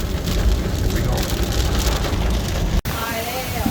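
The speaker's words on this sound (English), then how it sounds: "it is raining pretty hard right now" Heavy rain pouring down at a theme park, a dense steady hiss of drops on surfaces, close and loud, cut by a brief break near the end before resuming with a faint voice.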